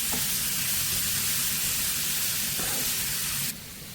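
Grated carrot sautéing in ghee for carrot halwa, a steady close sizzle and hiss that runs evenly, then drops to a quieter fry near the end, with no talking.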